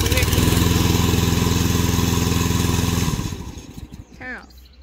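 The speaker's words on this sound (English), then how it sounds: "Now start the engine." The gasoline engine of a remote-controlled crawler brush mower runs loud and close with a steady throbbing drone, then shuts down and rattles to a stop, followed by brief squeaks and a person speaking.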